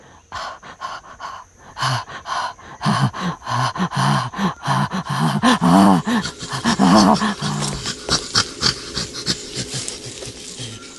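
A person imitates a mountain gorilla's greeting pant grunt, a run of rapid breathy grunts and huffs rising in loudness, close to the mic.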